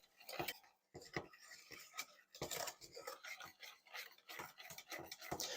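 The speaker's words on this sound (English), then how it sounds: "You have to keep stirring it. You can't just walk off and leave it." A spoon scrapes and clinks against a pot as chocolate pie filling is stirred, in soft irregular strokes, quiet and close.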